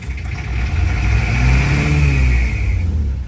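A 1959 Plymouth taxi with a Perkins diesel engine runs steadily, then revs up and falls back over a few seconds. The droning engine is loud and close, with no voices.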